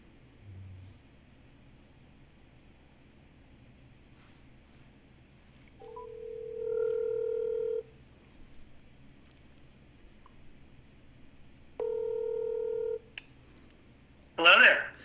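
A telephone keypad sounds two long, loud dialing tones several seconds apart, each rising out of a quiet background, with a brief burst of noise at the very end.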